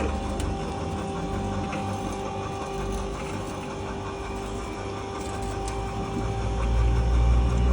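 Motorised wheelchair ramp lift at a salon, operated by remote control, hums steadily as it raises a wheelchair user, a continuous mechanical drone with a faint whine that grows slightly louder near the end.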